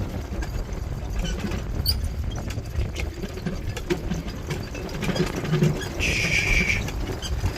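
A pair of young mares clop along unevenly in harness pulling a sport carriage under a steady rush of wind on a windy day, with faint creaks and jingles from harness.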